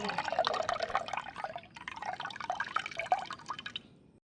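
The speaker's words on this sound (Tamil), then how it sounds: "உங்களுக்கு தேவையான அளவுக்கு புளியை சேர்த்துக்குங்க." Tamarind water pours into a simmering dried-fish curry, a steady splashing, trickling stream lasting several seconds, close and fairly loud, with no voices.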